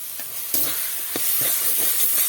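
Banana-flower (mocha) paste seasoned with salt, turmeric and a little chili powder, stirred and dried in a pan over low heat; soft, faint scraping and stirring clicks recur irregularly over a quiet sizzle.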